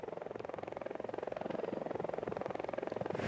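Helicopter flying over a Tour de Azerbaijan cycling stage near the mountains, its rotor producing a loud, steady, rapid chop that runs throughout with no voices.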